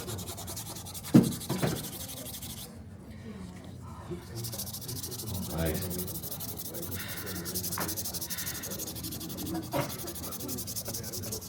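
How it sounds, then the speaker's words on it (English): Steady dry rubbing and scraping of sandpaper on wood, close by, continuing throughout with a brief spoken word and some faint background noise. "is now hand sanding"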